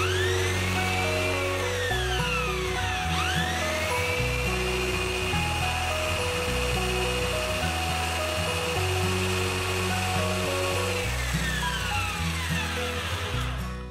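A Bosch PBS75AE belt sander runs steadily and loudly throughout, its motor whine shifting pitch in places as the belt alignment screw is adjusted during a repair.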